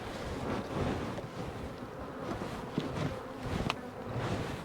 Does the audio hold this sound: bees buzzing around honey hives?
yes